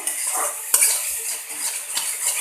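Spices with coriander powder frying in a pan for palak paneer, stirred with a metal spoon: a bright continuous sizzle with scraping and clinking of utensil against pan, close and steady, no voices.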